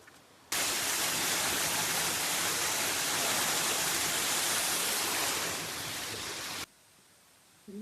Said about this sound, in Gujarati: સામે નાનો ધોધ આવે છે બીજો, તે તમને બતાવું.